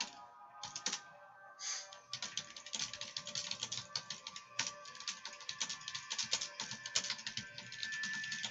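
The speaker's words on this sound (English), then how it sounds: "I'm not sure why I'm typing when I should be talking." Fingers typing on a computer keyboard while entering text in a game mission editor, a quiet, close run of rapid irregular clicks with brief pauses between bursts.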